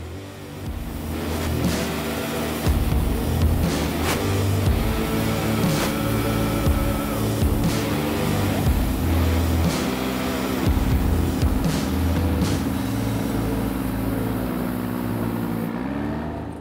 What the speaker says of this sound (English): This is an easy-to-use mini skid steer and attachment that can be found at your local rental yard.